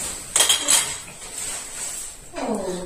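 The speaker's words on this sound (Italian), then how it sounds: "Arrivare a finire di lavare i piatti" Dishes and cutlery clink and clatter while being washed up by hand at a kitchen sink, with two short bursts of knocks and chinks close by over a soft wash of running water.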